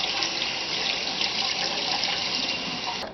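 Steady hiss of running tap water pours over brisket ribs being rinsed in a sink, close and continuous, with no voices.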